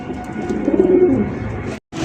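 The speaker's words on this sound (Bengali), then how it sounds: "দেখেন নরের ডাক দেখেন, এখন পর্যন্ত ডাকতেছে" A black male Lahori pigeon coos steadily and close by in a continuous, throaty run that ends abruptly, with a short break before the call picks up again.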